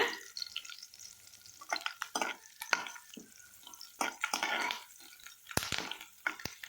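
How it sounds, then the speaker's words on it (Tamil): Curry leaves and green chilies frying in a pan for a Tamil egg curry, giving bursts of crackling sizzle and spatter that rise and fall alongside scraping stirring sounds. "லேசாக வறுபட்டதும் கருவேப்பிலை சேர்த்துருங்க"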